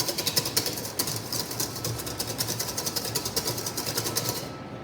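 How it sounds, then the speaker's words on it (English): Hollandaise sauce whisked in a bowl, a fast steady metallic ticking of the whisk against the bowl repeating close up for several seconds before it stops. "So, again, we're whisking."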